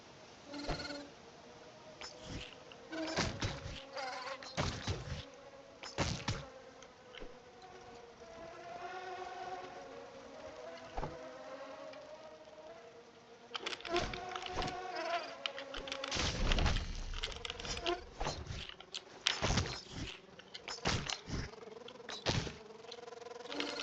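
Tails of Iron video game audio with a sustained insect-like drone weaving through game music, punctuated by repeated sharp impact hits, moderately loud and continuous, with no talking.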